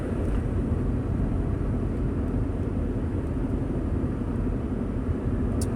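Inside the cabin of a carbon fiber airplane in flight, a steady low engine and airflow drone fills the space, constant and even throughout with no talking.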